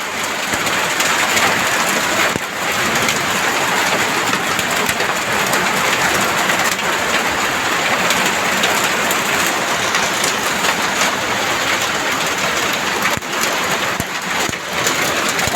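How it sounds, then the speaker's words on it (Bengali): A heavy hailstorm, with hailstones hammering down in a dense, unbroken roar that stays loud and steady throughout, with no voices. "প্রচন্ড শিলাবৃষ্টি, প্রচন্ড শিল পড়তেছে"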